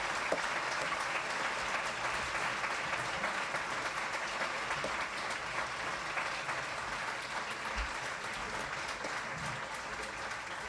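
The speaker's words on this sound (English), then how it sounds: "If you clap for another 5 minutes for each time, we'll never manage." Sustained applause from a debate audience, an even wash of many hands clapping that carries on steadily for around ten seconds at moderate volume, with no break and no one speaking over it.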